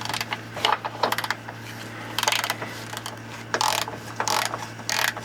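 A ratchet wrench breaks loose the one-time-use subframe motor mount bolts on a 2008 VW Mk5 GTI, with several bursts of rapid metallic clicking separated by short pauses over a steady low hum, close by and without talk.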